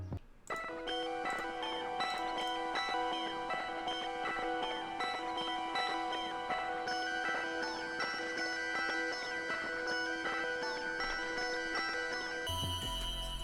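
Dark ambient melody with halftime and tape stop effects, a dense sustained synth texture with layered tones and scattered bright plucks, steady and loud throughout, dropping away abruptly near the end in a tape stop slowdown.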